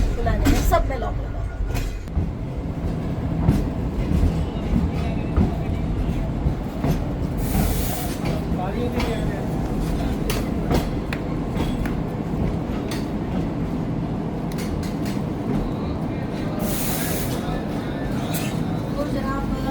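A Green Line train runs on rails between Islamabad and Karachi with a steady rumble and clatter. Faint wheel clicks and brief hisses come through while someone talks over it nearby.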